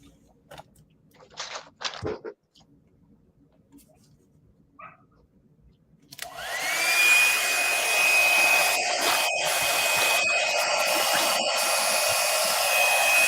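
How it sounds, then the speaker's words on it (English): A hair dryer blows steadily on wet color shift paint, a loud continuous rushing whir that starts abruptly after a few quieter seconds of faint handling noises and continues to the end with brief dips. "back to my dryer."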